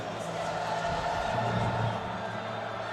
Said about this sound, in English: You can hear the crowd on their feet